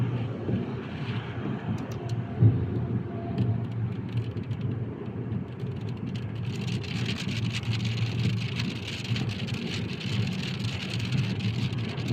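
Steady rain in Saudi Arabia during a long downpour, a continuous broad wash of falling water mixed with low rumbling traffic or wind noise, even in loudness for the whole stretch with no voices.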